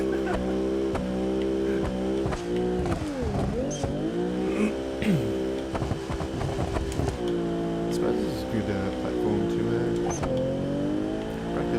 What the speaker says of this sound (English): Low speed drift.